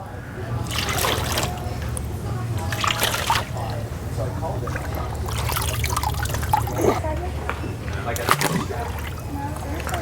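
A Higdon XS Pulsator decoy sprays and splashes water in steady sloshing bursts close by, with someone talking over it.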